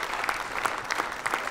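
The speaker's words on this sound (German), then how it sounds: "ja, herzlichen Applaus." A crowd claps warmly at a street naming ceremony and festive celebration for Staribacherstraße in Austria. Brisk applause runs continuously, fairly close, with no talk over it.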